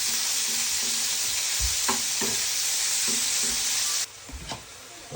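Steak pieces for a steak and ale pie sizzle and fry in a hot pan, a constant bright hiss broken by a few clinks and scrapes of stirring, dropping slightly quieter toward the end.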